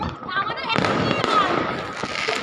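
New Year fireworks in Kolkata crackle and bang in a dense, continuous barrage, sharp bursts overlapping at mid distance while someone talks excitedly over them.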